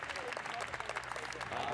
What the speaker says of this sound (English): They're getting a round of applause at the moment from the players